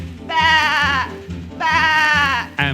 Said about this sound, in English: then the sheep